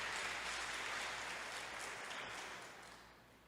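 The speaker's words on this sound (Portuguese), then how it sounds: "Vamos aplaudir ao Senhor por isso" A church congregation applauding during a sermon, a soft, distant wash of clapping that fades gradually toward the end.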